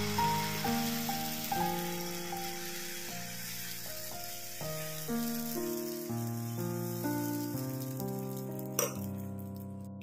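Rice and moong dal dosa batter sizzles on a hot, oil-greased tava over medium gas, a steady soft hiss running beneath prominent melodic background music throughout.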